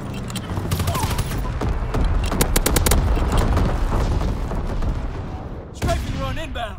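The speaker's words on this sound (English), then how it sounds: "Strafing the target." Fighter plane strafing run in a first-person shooter on a Shipment remake map, rapid bursts of heavy gunfire with explosive booms, loud and close, with voices talking over the shooting.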